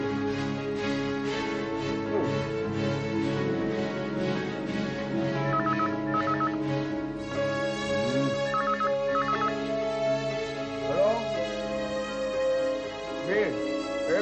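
Telephone ringing indoors in a domestic drama scene, a repeating electronic ring pattern under background music, with a call from a bank manager coming in.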